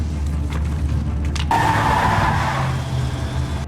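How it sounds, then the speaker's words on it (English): A car at speed brakes hard and its tires skid, a sudden loud screech cutting in over engine roar and holding for a couple of seconds, with no talk. "He accelerates to the maximum speed, then suddenly slams the brakes."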